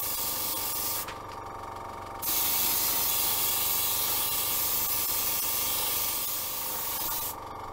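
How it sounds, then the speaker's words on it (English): Stain sprayed in steady broadband hissing bursts onto a turned wooden box, one short pause near the start, then a long continuous spray that cuts off near the end. "let's see if putting some stain on is going to help and work like it did last time"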